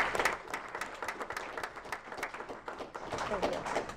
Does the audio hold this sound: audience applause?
yes